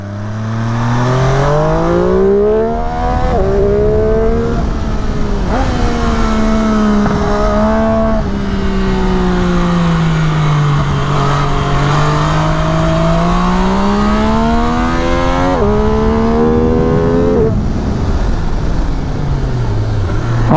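An MV Agusta F3 800 RR motorcycle screams hard through rising gears, the engine pitch climbing, dropping at each shift and climbing again, loud and close throughout with no talking.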